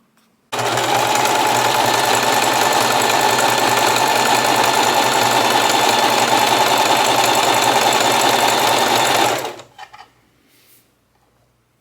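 A sewing machine doing a stretch stitch on a single layer of T-shirt fabric whirs loud and close at a steady pace for about nine seconds, then stops, leaving faint quiet.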